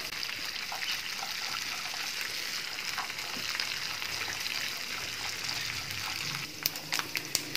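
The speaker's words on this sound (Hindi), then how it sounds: "हल्की आग पे इसे हमने रोस्ट करना है" Ingredients for Kashmiri biryani roast in a pot over a low flame, giving a steady, soft sizzle and crackle, with a few light clinks of stirring toward the end.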